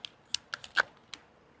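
Tarot cards are handled and drawn close by in a handful of quick, crisp snaps and slaps, with short pauses between them and no talking.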